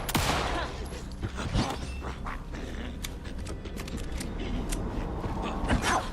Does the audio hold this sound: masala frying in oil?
no